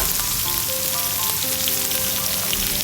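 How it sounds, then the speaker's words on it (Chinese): Squid pieces sizzle loudly in a hot wok with onions as they are stir-fried for Thai black pepper squid, a steady dense crackle throughout with faint clinks of utensils. "炒到洋葱稍微透明了我们再放入我们的鱿鱼"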